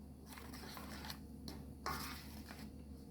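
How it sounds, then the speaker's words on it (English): Dry ingredients mixed into wet batter for Jamaican spice bun, with soft scraping and clinking of a utensil against a bowl in short irregular strokes, faint and close, no talk. "Adding our dry ingredients to the wet ingredients, and we're going to just mix until everything is combined"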